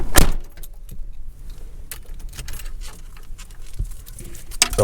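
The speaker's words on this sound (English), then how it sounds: "Let me shut this door." A car door on an 89 Chevy Caprice box body with an LS swap and sunroof shuts with one solid thump near the start, followed by faint rattles and small interior clicks, no talking.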